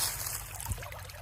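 Creek water trickling over natural stone among wetland grasses on a homestead, a soft, steady babble with a low outdoor rumble underneath.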